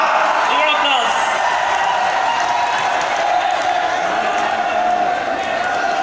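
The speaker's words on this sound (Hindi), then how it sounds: "जोरदार तालियां।" A crowd claps and cheers at a Matki Phod festival event, dense, loud and continuous, with shouts rising over the steady applause throughout.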